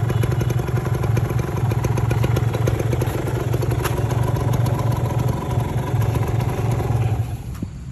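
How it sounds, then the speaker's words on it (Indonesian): A motorcycle engine idles steadily near the listener outdoors, a loud continuous low rumble with a rapid mechanical clatter running through it, easing slightly at the very end. "Motornya, coba kita nyalain suaranya."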